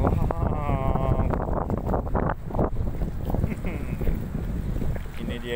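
Wind gusts steadily across a lakeside camp, a constant rumbling roar in the microphone beneath a person talking throughout.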